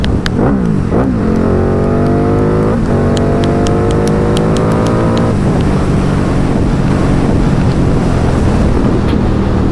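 A Ducati Diavel 1260 motorcycle accelerates on the road, its engine note climbing through rising harmonics in a couple of pulls, heavily buffeted by loud wind noise on the microphone throughout.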